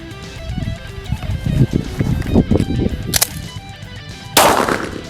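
Pistol shots fired at a shooting range after drawing from a holster, a few sharp cracks standing out near the end over a busy background of other range noise.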